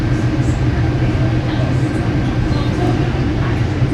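A Chicago Metra commuter train rides toward Union Station: a steady, loud, low rumble of rolling wheels and carriage noise from inside the car, continuous throughout with no clear voices.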